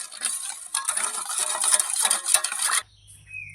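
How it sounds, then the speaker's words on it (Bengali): Yeast being mixed into wheat flour for bread dough, giving a close, dry rustling and scraping that runs for nearly three seconds before stopping abruptly into near silence. "এখন ভালো করে মিশিয়ে নেব।"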